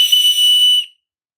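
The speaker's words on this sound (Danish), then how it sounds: "Det er en ørnefløjte." Eagle whistle bought from Temu, blown once at home: a loud, piercing, steady high-pitched shriek lasting under a second, then cut off into silence.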